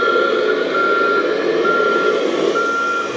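Steady electronic reversing beeps from a Kabolite K3362 4x4 RC dumper truck, a regular repeating tone sounding loud and close over a continuous background hum with no talking.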